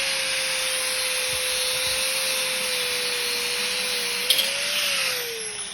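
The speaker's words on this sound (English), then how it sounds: "I use the angle grinder personally." An angle grinder cuts through a piece of hose during a catch can install on a GD chassis Subaru, a steady loud high whine running continuously with a slight pitch dip and rise near the end, no talking.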